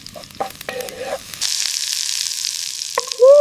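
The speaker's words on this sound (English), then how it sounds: "As the butter and garlic sizzle, give it a good stir." Garlic sizzles in hot butter in a pan at an outdoor cooking setup, a steady hiss after a few brief tones and clinks, with a louder burst at the end.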